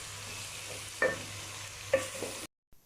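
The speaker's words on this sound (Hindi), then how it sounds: "इसमें अच्छी तरह मिक्स करेंगे और 2 मिनट के लिए पकने देंगे ताकि लहसुन का जो कच्चापन है वो ख़त्म" Garlic paste being stirred in a frying pan for aloo chicken, quiet sizzling with two sharp scraping clinks of a utensil against the pan, then a brief cutoff.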